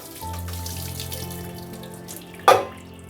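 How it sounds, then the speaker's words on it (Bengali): Boiled soybeans are rinsed and drained under running tap water in a kitchen sink, a steady close gush of water lasting a few seconds before a brief clatter near the end, with no talk. "সিদ্ধ করা সয়াবিনটা জল ঝরিয়ে নেব।"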